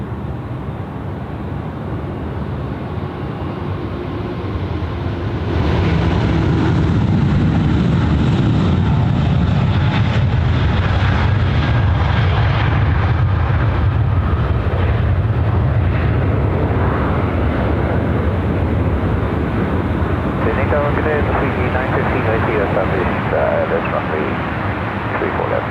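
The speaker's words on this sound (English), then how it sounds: "You got one A380 there just taking off in the sky." An Airbus A380 taking off at Sydney Airport. Its jet roar swells after a few seconds into a loud, sustained rumble that fills the scene, while people talk over it.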